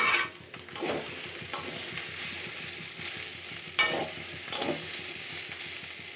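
Steady sizzling of ginger frying in a wok on a stove burner, with periodic scrapes and knocks as the food is stirred one-handed and the pan shifts on the burner.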